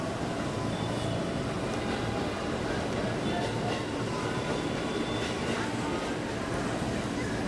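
A KRL commuter train running between Manggarai and Angke in Jakarta, heard from inside a carriage as a dense, steady rumble of wheels and motion noise without letup.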